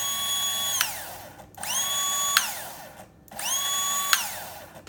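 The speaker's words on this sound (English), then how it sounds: "you can get an idea how long it takes for the motor to coast down when I release the trigger." Electric motor on an M-Magic S controller spinning up, then winding down under controller braking, heard three times in a row, each a rising whine that drops away with a descending pitch.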